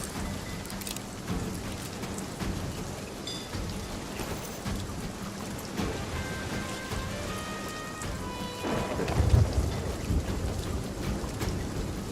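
Thunderstorm and rain at sea in the pirate sailing game Sea of Thieves: a steady hiss of rainfall with low rumbling thunder, a swell of heavier rumble near the end, and faint tonal game sounds in the background.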